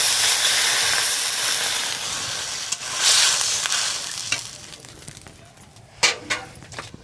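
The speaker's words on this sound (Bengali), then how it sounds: "এবারে আমি দিয়ে দেবো পরিমাণ মতন জল" Water poured into a pan of papaya fish curry meets a loud sizzling hiss that slowly settles and fades, with a few sharper bursts of bubbling toward the end.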